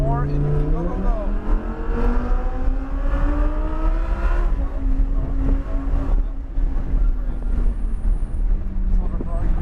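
A car engine revs up on throttle, rising in pitch, then settling into a sustained drone. A voice talks over it throughout.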